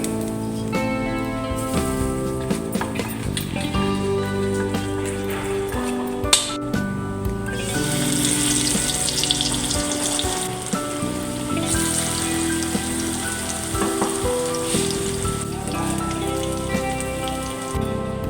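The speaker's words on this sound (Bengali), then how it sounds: "এখন আমি ভাজব" Banana flower chops (mochar chop) in batter fry steadily in hot oil, a dense, loud crackling sizzle with a brief clink partway through. No talking.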